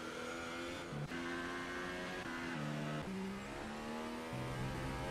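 Race cars in a French Grand Prix racing video game running behind a safety car, engines holding steady whining tones that step up and down through gear changes, continuous and fairly quiet with no talk.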